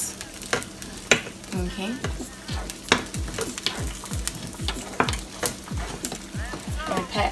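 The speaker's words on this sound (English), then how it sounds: "Just gonna continue to mix my grits." Grits stirred in a pot with a spoon, giving a steady run of scraping, clacking strokes over a constant sizzle from pancakes cooking nearby; one brief spoken word breaks in.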